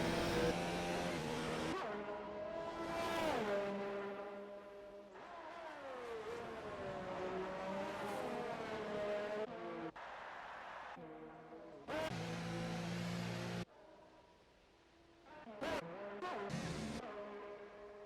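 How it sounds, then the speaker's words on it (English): Ferrari race cars on hot laps at the Italian Grand Prix scream past in succession, loud high-revving engines rising and falling through gear changes with sharp downshifts and brief pauses between passes. "Have the Ferraris on their hot laps right now."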